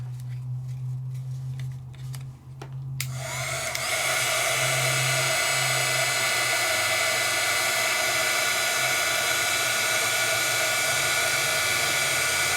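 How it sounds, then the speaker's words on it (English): An embossing heat tool switches on after a few quiet seconds, then blows hot air in a loud, steady, high-pitched whine that holds without a break to the end. "I'm going to move my heat tool slowly."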